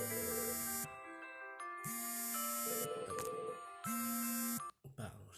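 A telephone rings in repeated bursts of a bright electronic tone, with short pauses between them, fairly loud and close, in a quiet room where a yoga class is about to begin.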